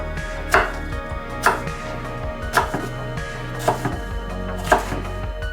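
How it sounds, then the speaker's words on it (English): A knife chops poblano peppers into squares on a cutting board, five evenly spaced crisp thunks close by over a low kitchen background, no talking. "cut your Poblano peppers into squares, just like your tomatoes and onions"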